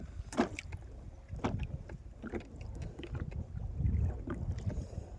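Wind buffets the microphone in low rumbling gusts while fishing by the water, with faint splashes and knocks in the background.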